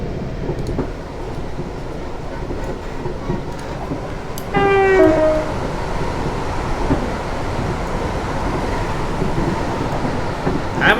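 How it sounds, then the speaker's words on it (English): A train passing in Train Simulator 2018 on the Portsmouth Harbour to Waterloo route, a steady rumbling roar with a brief two-tone horn blast midway, loud and continuous. "Maybe the barriers are waiting for that train to pass."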